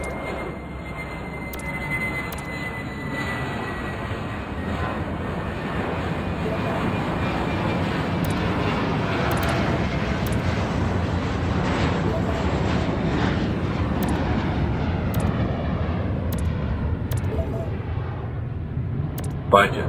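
A jet airliner taking off in the Airport Madness video game, a loud, steady engine roar that swells and holds for about twenty seconds with a faint high tone above it, ending in a short click.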